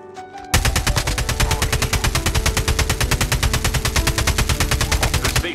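Rapid automatic gunfire in a battle royale video game sounds as a loud, steady, evenly spaced burst of shots that begins abruptly and keeps going to the end.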